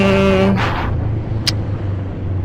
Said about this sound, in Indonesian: berisik karena ini knalpotnya sudah tidak standar. Jadi knalpotnya sudah diganti pakai knalpot racing.